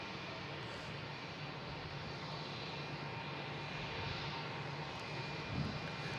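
A JetBlue jet airliner's engines roar steadily at Boston Logan International Airport, a broad, sustained rumble heard from a distance with no talk over it.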